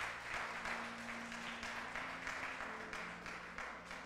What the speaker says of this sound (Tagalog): Dali natin palakpak sa Lord.